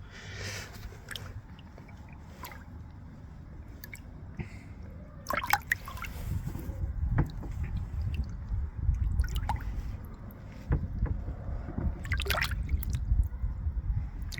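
Water drips and trickles off a koi as it is lifted out of a bowl, with faint irregular splashes and patters over quiet background noise.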